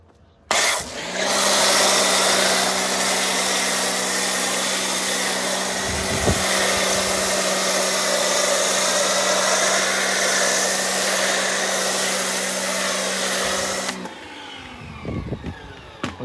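A foam cannon sprays car wash foam onto a car, a loud steady pressurized hiss with a low pump drone that starts abruptly, runs continuously for about thirteen seconds, then cuts off into quieter handling noises.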